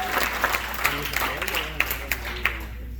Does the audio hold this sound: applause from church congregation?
yes